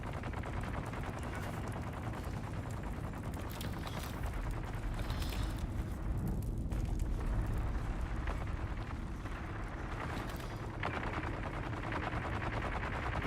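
Dense, continuous gunfire from a Dune Awakening firefight, with rapid overlapping shots and bursts sustained at steady loudness throughout, with no voices.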